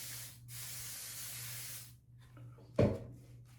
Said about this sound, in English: Okay, I'm going to use one of these bougie sprays.